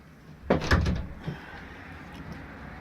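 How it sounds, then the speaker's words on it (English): A storage door on a 2016 Yamaha Raptor 700R ATV is opened with a quick plastic clunk and rattle, followed by a softer second knock, close by, with quiet ambient noise afterward. "Let me open up this door."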